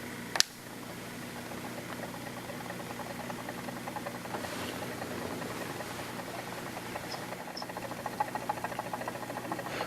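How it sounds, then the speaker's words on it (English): A magnetic stirrer runs on a benchtop pH meter setup, giving a faint, steady whirring hum with a soft noisy hiss that carries on evenly after a single brief click at the start. "we turn on the magnetic stir"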